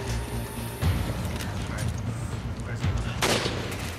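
Gunfire in the video game Resident Evil 5 during a co-op firefight, several sharp shots and bursts scattered over a continuous game backdrop, fairly quiet in the mix.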